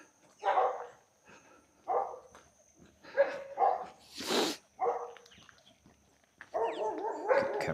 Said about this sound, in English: But just be wary of the dogs here, so you don't get a fright.